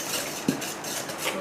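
Egg waffle batter stirred in a bowl, a short burst of scraping with one sharp utensil tap against the side, close and brief.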